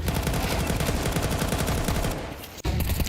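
Nonstop gunfire from a Counter-Strike match: loud, dense automatic shots in a steady rapid rhythm, with a brief dip near the end before the firing picks up again.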